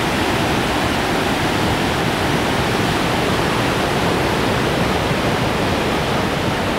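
A roadside waterfall on the West Fork of Pigeon River pours beside a rock bridge and culvert, making a steady, loud, unbroken rushing roar with no voices.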